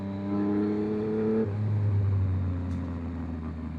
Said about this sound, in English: I will say the bike sounds a lot better too after getting the Flash.